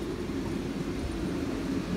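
Steady low rumble of a train rolling past near a small village between Blagoevgrad and Melnik in Bulgaria, continuous and even throughout, with no voices.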